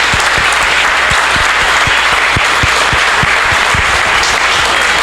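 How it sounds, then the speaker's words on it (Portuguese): Sustained applause from the audience at a football club's press conference for a newly elected president, dense steady clapping filling the room for several seconds, loud and close. "Queria pedir realmente que todos pudessem dar uma salva de palmas para essa equipe."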